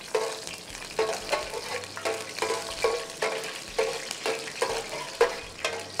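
Dried red chillies sizzle in hot oil for a dal tadka, a steady close frying crackle broken by regular bursts of stirring roughly every half second, with no voices.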